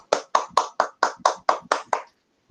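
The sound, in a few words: hand clapping, applause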